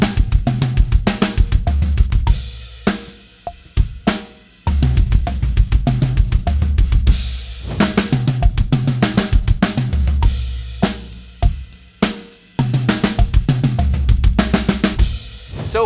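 Drum kit playing dense double kick drum fills in 2/2 and 4/2 groupings, with rapid bass drum strokes and cymbal crashes, loud and alone, broken by short gaps.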